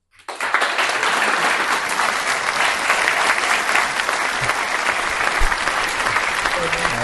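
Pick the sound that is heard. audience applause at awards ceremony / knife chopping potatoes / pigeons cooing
audience applause at awards ceremony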